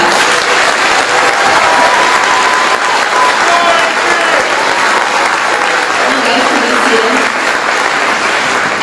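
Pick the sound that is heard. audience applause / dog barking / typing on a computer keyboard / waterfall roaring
audience applause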